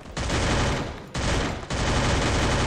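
Dense automatic gunfire in a first-person shooter match, loud and close, in three sustained bursts separated by brief pauses.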